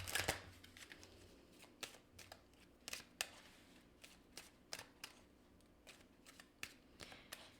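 Oracle cards from a Romance Angels deck shuffled by hand, giving a quiet run of crisp, irregular riffling slaps and flicks spread through the whole stretch, close and soft with no talking.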